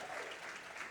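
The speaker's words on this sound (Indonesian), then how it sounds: "Mari beri tepuk tangan buat Tuhan" Steady applause from a seminar audience fills the whole second, dense and continuous at a moderate distance, with no break in the clapping.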